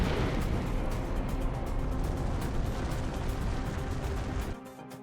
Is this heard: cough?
no